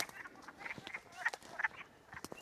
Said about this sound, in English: It's kind of a cacophony of frogs, and they're laying a whole bunch of eggs in there.